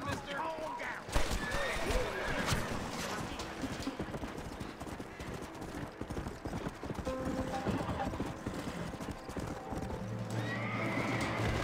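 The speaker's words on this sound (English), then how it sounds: "Steal a deputy's horse" In the Red Dead Redemption video game, a horse's hooves clip-clop in a fast, steady rhythm and it neighs loudly, while voices talk over the gallop.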